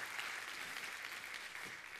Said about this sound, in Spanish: ¿Alguien un aplauso?